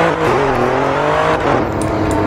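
A 2021 Alfa Romeo Giulia Quadrifoglio accelerates hard. Its engine roars loud and steady, and the pitch climbs as the car gains speed.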